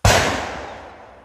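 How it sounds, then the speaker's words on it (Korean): One loud gunshot from an outdoor shooting range, a sharp crack followed by a long echoing decay. "지금 근데 다른 애들 총소리 들리시죠?"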